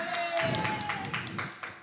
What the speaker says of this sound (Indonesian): Tepuk tangan lah kalian Amuna.